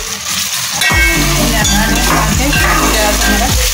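Finely chopped onions fry loudly in a pan for Bihari-style qeema, a steady dense sizzle running throughout with periodic utensil scrapes and stirring knocks near the mic.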